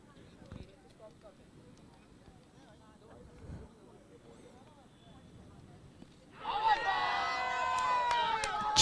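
A cricket crowd at a T20 match bursts into loud cheering and applause that swells and holds, following a stretch of quieter commentary talk.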